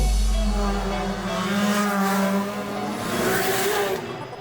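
Honda Civics race at night on a Japanese mountain road, a close, loud, high-revving engine howl that climbs and falls through the gears with faint tire noise, and no talk over it.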